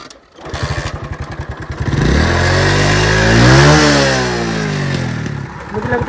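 A motorcycle on a rough village road sputters and cuts out, restarts and revs up loudly, then its engine note sags and fades as if dying again, close and dominant.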